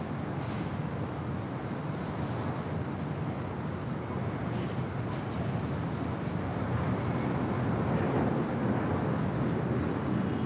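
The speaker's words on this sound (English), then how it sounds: "This is a Cessna Citation Sovereign coming in from Vancouver." A Cessna Citation Sovereign business jet comes in to land at LAX, heard as a continuous broad roar mixed with wind buffeting on the microphone, steady and fairly loud throughout.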